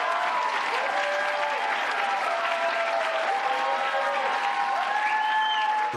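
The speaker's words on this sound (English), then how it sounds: "A lengthy standing ovation for Hillary Clinton" A lengthy standing ovation for Hillary Clinton fills a large hall with sustained, even applause. Cheering voices rise over the dense clapping, which stays steady and full throughout.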